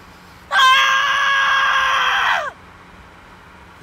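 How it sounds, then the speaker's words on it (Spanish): A woman lets out a single loud, sustained scream lasting about two seconds. It starts abruptly and cuts off sharply, followed by quiet. "Hacía tiempo que no te hacía gritar."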